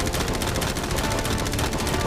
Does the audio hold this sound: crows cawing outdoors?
no